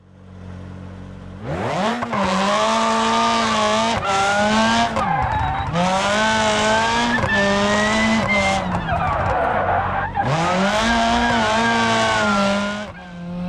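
A car in the BeamNG.drive racing game drifts on a jungle island track, its engine roaring loudly while long, high tire squeals rise and fall in repeated sweeps, with brief breaks between slides.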